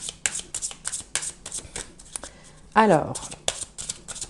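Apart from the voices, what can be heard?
shuffling tarot cards before drawing them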